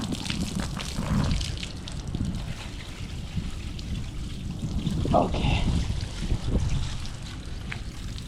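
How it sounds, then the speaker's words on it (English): Water runs and trickles steadily while irrigating a farm field, a soft, continuous flowing sound with small splashes, under brief talk from a nearby voice. "Let me go turn off the water"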